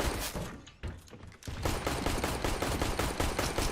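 Rapid automatic gunfire in Counter-Strike: Global Offensive, a loud dense burst of shots that breaks off briefly near the start and then runs on as a steady, evenly spaced stream of close rounds.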